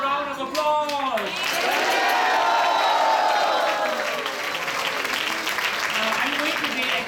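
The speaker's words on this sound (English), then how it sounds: "Can we have a loud round of applause?" An audience applauds after a spiritual drama staged for Krishna Janmashtami, a loud sustained wash of clapping and some cheering with voices mixed in, alongside a swooping tonal sound.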